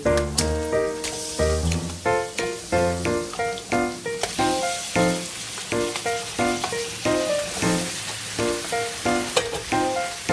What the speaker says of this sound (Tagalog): Ayan po muna natin mag-brown yung chicken.